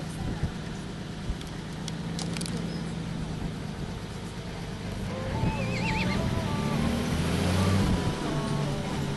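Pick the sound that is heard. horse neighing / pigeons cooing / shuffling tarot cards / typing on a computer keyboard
horse neighing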